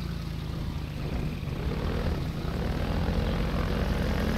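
Helicopter in the video game Half-Life 2, a steady loud rotor and engine drone that holds constant and fills the whole stretch with no pauses or talk.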